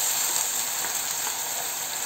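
Water hits spices frying in a pan for a vegetarian kohlrabi curry and raises a loud, even, hissing sizzle that holds steady throughout.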